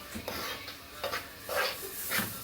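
Onion being stirred in a cooking pot for stuffed cabbage: a few soft scraping stirs with light clinks against the pot, irregular and close, over a quiet background with no talk.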